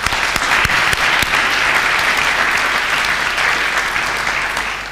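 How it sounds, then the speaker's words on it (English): A conference audience at the tiConf EU 2013 keynote applauds loudly and steadily for about five seconds, a dense wash of clapping that eases slightly at the very end. "Why don't we give Boyd Lee a round of applause"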